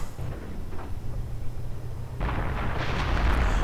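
Artillery fire in a WWII real-time strategy game, a low rumbling barrage that swells partway through into a loud, dense roar of blasts and debris, with no voice over it.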